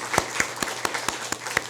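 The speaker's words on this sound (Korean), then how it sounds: "우리 감사의 박수를, 또 하나님께는 영광의 박수 드리겠습니다." Church congregation applauds after three deaconesses finish singing, a room full of hands clapping together in a quick, steady rhythm with regular louder beats over a continuous patter.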